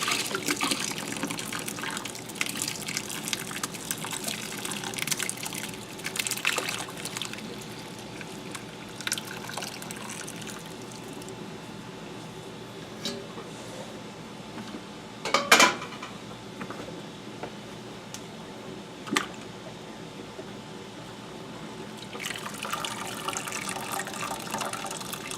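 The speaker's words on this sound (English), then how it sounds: "next we're gonna pour this into the strainer to separate the" Goat cheese curds and whey pour into a strainer, a steady wet splashing and trickling with light clinks of pots and utensils, rising near the end.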